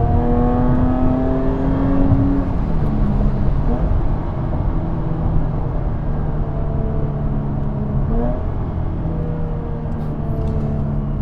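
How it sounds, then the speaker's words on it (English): A 2017 Jaguar F-Type S coupe's engine holds a sharp, steady revving tone, with the pitch rising and falling slightly over several seconds, loud and close without pause. "that is quite a sharp little tone that this little motor makes"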